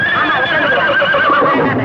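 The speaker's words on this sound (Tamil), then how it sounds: "எங்க அப்பா குதிரை மேல ஏறிட்டு எங்க போறாரு?" In a Tamil comedy film, a horse gives a long, loud, quavering neigh close by that fills the whole moment.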